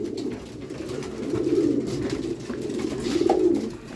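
Racing pigeons coo at a loft during a derby, giving soft, low, repeated throaty coos close by, with faint background noise and no talk heard.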